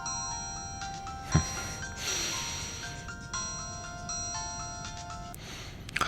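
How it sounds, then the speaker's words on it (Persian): A mobile phone rings with a bright electronic melody, its notes repeating in a steady pattern, heard close and clearly on its own. "گوشیت زنگ میخوره."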